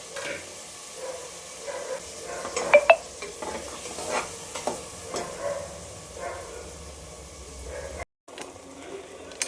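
Ground paste for mint pulao fries in a pan while a spoon stirs and scrapes it, giving a faint steady sizzle broken by irregular metallic clinks and scrapes over several seconds, with a brief dropout near the end.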